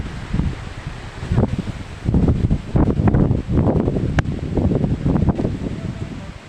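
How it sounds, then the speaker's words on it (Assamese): Strong wind gusts through trees during stormy rainy-season weather, a roaring, rustling surge of leaves and branches that swells and eases in waves, loud and close with buffeting on the microphone. "এই বতাহ কেনেকুৱা দেখিছনে"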